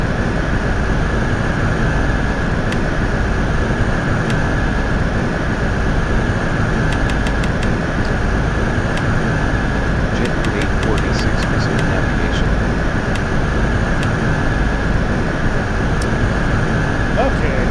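Steady jet engine roar of an Embraer E195 airliner in X-Plane 11 fills the cabin continuously, loud and unbroken, with faint intermittent clicks layered over it.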